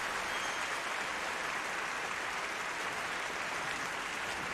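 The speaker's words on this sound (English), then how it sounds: "Thanks a lot for the applause. And thanks a lot for the claps." An audience claps steadily through a hall after a harp performance, a dense, even patter of many hands at moderate volume that carries on without a break and without voices.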